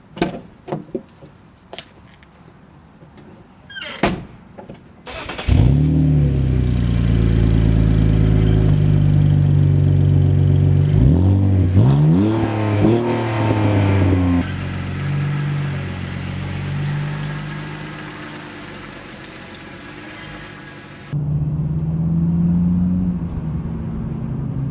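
A BMW E46 car starts up and drives off, its mid-pitched engine humming steadily from inside the cabin with a few revs as it shifts, preceded by door clunks and handling sounds.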